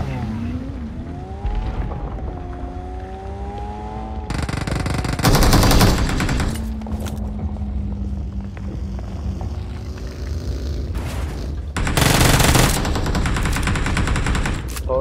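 Bursts of automatic gunfire in BGMI during an intense ranked match, two loud sustained volleys separated by quieter stretches with vehicle engine drone and spoken voices.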